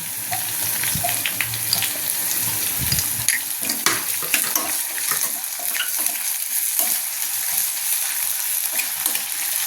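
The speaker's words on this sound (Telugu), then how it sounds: "అల్లం వెల్లుల్లి పేస్ట్ పచ్చివాసన పోయేట్టు వేపుకోవాలండి" Ginger garlic paste frying with onions in a pan, a steady close sizzle with scraping stir strokes and small clinks throughout, no voices.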